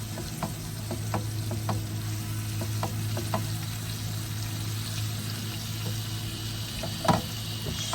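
A spoon works through a simmering green peppercorn sauce with chicken and vegetables, crushing peppercorns against the pan amid a steady close sizzle and bubbling, with scattered soft taps and scrapes.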